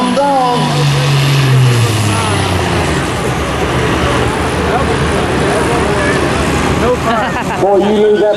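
A tractor engine roars at a tractor pull event, the loud continuous drone rising and shifting in pitch while an announcer talks over it.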